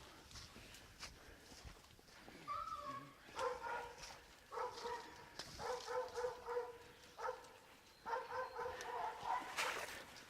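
A hunting dog tied to a tree during a hog hunt barks and yips in repeated bursts at moderate distance, with rustling footsteps and a brief voice in between.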